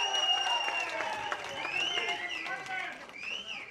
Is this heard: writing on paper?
no